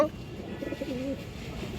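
A female pigeon coos softly in a few low, wavering calls close by, with steady background noise and no talking.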